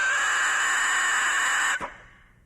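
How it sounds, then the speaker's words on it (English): A bagpipe chanter reed blown on its own gives a steady, loud, high-pitched squeal that holds for nearly two seconds, then cuts off abruptly. "You should hear a high-pitched squealing sound like this."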